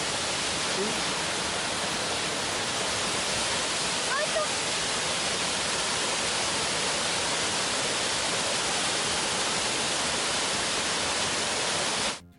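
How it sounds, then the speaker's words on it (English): The Sgwd yr Pannwr waterfall pours with a steady, loud, close rush of white water that stays constant throughout. "Let's enjoy Skut Yer Paner waterfall now."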